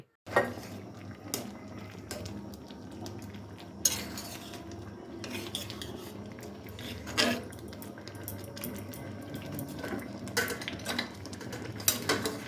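A spoon scrapes and clinks against a pan as tomato sauce is stirred after tamarind juice is added, with intermittent metallic knocks and soft scraping at close range in a quiet kitchen.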